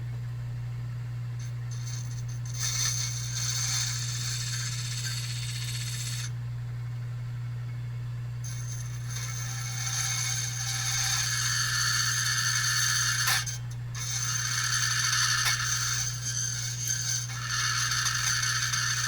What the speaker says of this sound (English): Obviously, using your key machine as a file is something I don't necessarily endorse.